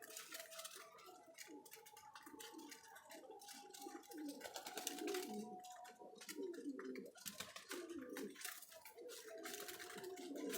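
Young pigeons in a rooftop loft murmur and coo continuously while pecking at grain, with soft fluttering and tapping mixed into the steady low burbling.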